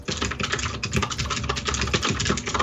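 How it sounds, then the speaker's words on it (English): Loud, rapid typing on a computer keyboard, dense overlapping keystrokes clattering steadily and close up without a pause. "Tom, that's the loudest typing ever."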